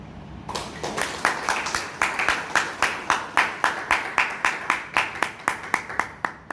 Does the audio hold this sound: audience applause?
yes